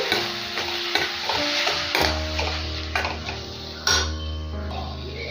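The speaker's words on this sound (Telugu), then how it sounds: "ఉల్లిపాయలు బాగా ఫ్రై అయిపోయాయి కదా ఇప్పుడు టమాటాస్ యాడ్ చేసుకుందాము" Onions frying in a pan as two large tomatoes are added for a ladyfinger curry, a steady close sizzle with spoon scrapes and knocks against the pan, a louder clatter near the end.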